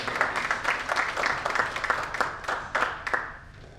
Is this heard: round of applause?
yes